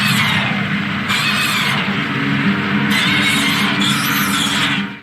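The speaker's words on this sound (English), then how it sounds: "are reversed and modified Gomora roars." Reversed, modified Gomora roars serving as the cries of the oil-drinking monster Pestar from Ultraman, a loud, continuous squealing, grinding roar with shifting screeches that lasts throughout without breaks.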